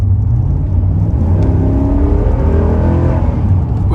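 A Ram 1500 truck's Hemi V8 engine revs and accelerates, a loud steady low rumble with rising harmonic whine building across a few seconds, close and unaccompanied by talk.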